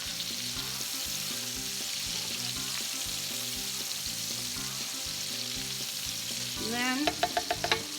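Red potatoes fry in bacon fat, sending up a steady, fairly loud sizzle while they are pushed around the pan with soft stirring scrapes, and a few brief words of speech come near the end.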